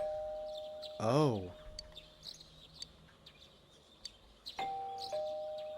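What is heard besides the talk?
doorbell ringing in video game Persona 4 Golden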